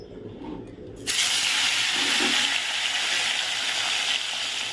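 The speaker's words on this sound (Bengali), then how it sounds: "চলো এবার মাছটা ভেজে নিই" Fish drops into hot oil in a pan: a quiet moment gives way to a sudden loud sizzle that keeps hissing steadily and close until the end.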